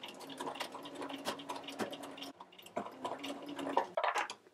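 A sewing machine stitches a knife pleat in fabric, running as a continuous close mechanical whir with rapid rhythmic ticking. It stops briefly midway and then starts again.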